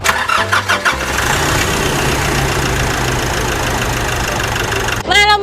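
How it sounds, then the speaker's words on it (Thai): A Nissan Navara 2.5 engine cranks with a few rapid stuttering turns, catches and settles into a steady, loud, close idle that runs on evenly to the end. "เครื่องเดิมๆฟิตๆไม่รั่วไม่ซึมสตาร์ติดง่ายนะคะ เดี๋ยวเราไปฟังเสียงกันเลย"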